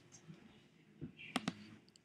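A computer mouse gives two sharp, close clicks in quick succession against a quiet room background while rendering settings are saved in After Effects.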